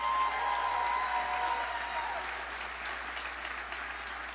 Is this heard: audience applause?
yes